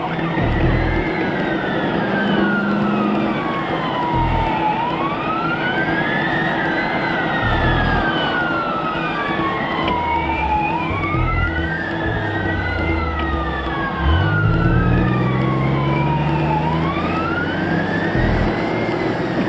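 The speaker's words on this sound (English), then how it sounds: "I had the wailer going, and I think Bill had the yelper going, trying to inform the public that there were 2 police vehicles" Two police cars run their sirens together, one on a wailing tone and the other on a rapid yelp, loud and continuous over a deep engine rumble while heading to a hospital.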